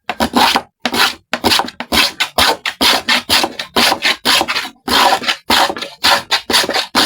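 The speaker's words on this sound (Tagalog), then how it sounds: "Liha na naman konti." Rhythmic hand sanding with sandpaper: steady back-and-forth rasping strokes, close and fairly loud, with short pauses between bursts.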